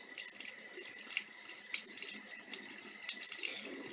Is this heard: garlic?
no